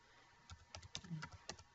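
Quiet, irregular computer keyboard typing as code methods are written: scattered soft key clicks in short bursts, close by, with no talking.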